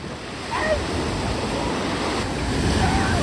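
Steady ocean surf rolling in at Goo Lagoon beach, a broad continuous wash of waves with some wind noise, close and fairly loud throughout, with faint voices now and then.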